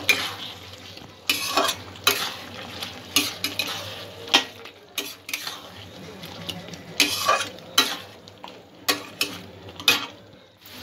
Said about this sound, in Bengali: সবজির সাথে সমস্ত মশলাগুলো একটু কষিয়ে নেব।